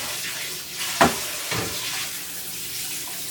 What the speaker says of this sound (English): Let me rinse this pan out.